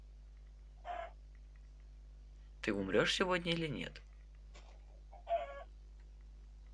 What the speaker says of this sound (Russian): Так, курочка.